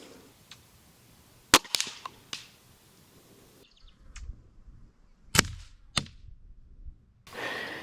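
Sharp, snappy cracks from a Gamo Swarm Magnum 10X Gen3i air rifle fired at a target 30 yards away, a handful of shots each followed by faint mechanical clicks, close and otherwise quiet.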